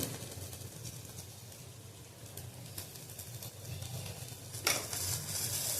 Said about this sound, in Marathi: आता हे चांगलं एकत्र करून घ्यायचं आहे. तेलात चांगलं परत भाजून घ्यायचं आहे.